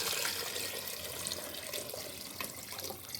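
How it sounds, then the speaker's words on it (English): Water pours in a steady, fairly loud rushing stream into a carafe or crock, continuing unbroken and close, with no voices. "These are gonna go into the carafe or the crock or whatever you wanna call it."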